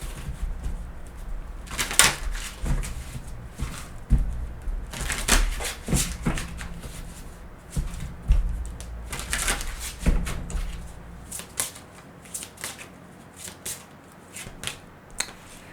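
Tarot cards are shuffled and drawn for an advice card: close, dry flicks and soft riffling bursts come in irregular clusters with quiet gaps between them.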